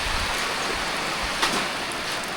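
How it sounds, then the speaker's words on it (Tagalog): Rain falling steadily outdoors, a dense continuous hiss of drops with a brief louder patter midway, no voices. "Ulan na."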